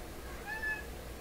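A tabby cat gives a single short, quiet meow, a brief tonal call over a low hum of room noise.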